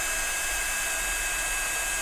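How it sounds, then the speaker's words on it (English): A heat gun blows steadily on stencil card, a constant close whooshing roar with no change through the short stretch. "especially with these heat guns"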